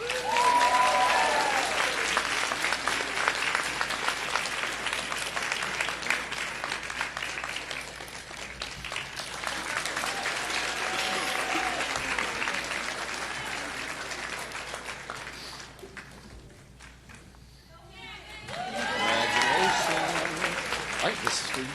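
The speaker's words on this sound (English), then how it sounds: "one more round of applause, everybody." Steady applause from an audience at a physician assistant white coat ceremony, loud and sustained. It dips briefly before swelling again, with some voices under the clapping.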